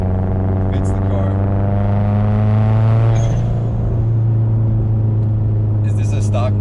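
A 2006 Subaru WRX STI engine idles with a deep steady rumble, then revs briefly, ending with sharp hissing bursts like a blow-off valve, while people talk nearby.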